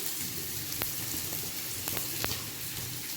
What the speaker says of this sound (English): Then I'll simmer it a little bit.